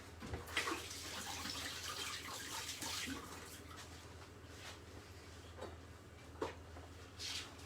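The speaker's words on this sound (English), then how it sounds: "Got our pepper, which I'm going to give a quick wash." A bell pepper being rinsed under a running kitchen tap, a soft steady stream of water with occasional splashes and drips, close but quiet, no talking.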